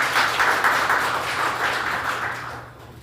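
An audience at an appointment ceremony in a seminar room at the National Assembly members' office building applauds steadily at moderate loudness, and the clapping fades slightly toward the end.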